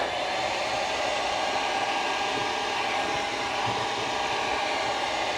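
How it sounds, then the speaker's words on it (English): A hair dryer blows steadily at close range while drying a handmade Michael Myers mask, a loud, even whoosh that runs unbroken for several seconds with no talking. "So I take my hair dryer here."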